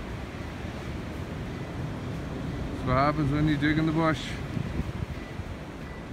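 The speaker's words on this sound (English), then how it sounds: "Sorry about the wind, guys. It's a little bit of a windy day today." Steady wind buffets the microphone with a constant rough rumble, while a person speaks briefly over it.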